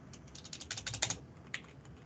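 Keys clatter on a computer keyboard in a quiet room, a quick run of close, crisp taps followed by one sharper isolated keystroke like an Enter press.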